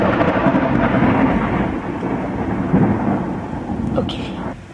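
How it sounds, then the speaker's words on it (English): A heavy thunderstorm with torrential rain pouring steadily outside a window on a rainy day. It is a dense, continuous roar of downpour with low rumbling thunder underneath, and a few sharper drips toward the end. "it's like actually really pouring"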